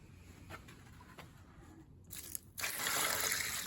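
Water pours and splashes into dry, powdery yard dirt left from screening rocks, with faint patters at first, then a louder, continuous rushing splash near the end.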